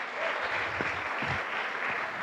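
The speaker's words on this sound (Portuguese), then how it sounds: "Você pode aplaudir e glorificar o Senhor Jesus essa noite." A church congregation claps during an evening service, a soft, distant patter of applause that stays low and even for a couple of seconds.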